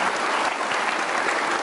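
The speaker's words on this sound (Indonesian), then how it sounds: "kita kasih tepuk tangan dong Kakak Edison" A studio audience at a televised Indonesian talk show applauds, a dense sustained round of clapping that fills the whole short stretch with no pauses.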